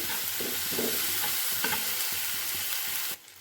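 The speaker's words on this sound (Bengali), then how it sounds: "বাটা মশলা ভালো করে কষিয়ে নেবো সুন্দর করে কষিয়ে নেব মশলাটাকে" Ground spice paste sautéing in a pan while being stirred for a prawn do pyaza, a soft continuous sizzle with repeated scraping strokes of the spoon, close up, cutting off abruptly at the end.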